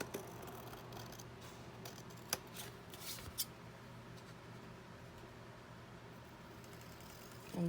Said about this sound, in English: I'm just using a pair of scissors.